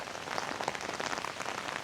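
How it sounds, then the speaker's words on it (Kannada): Steady rain patters down with scattered drops ticking close by, a continuous wet hiss with no voices, near the Muppane ferry in Sagara, Karnataka. "ನಾನ್ ಸ್ಟಾಪಲ್ಲಿ ಮಳೆ ಬರ್ತಾ ಇದೆ"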